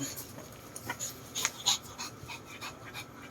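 A stud dog pants rapidly close by during a breeding session, with soft snorts and a few whimpers, while a voice murmurs faintly in the background.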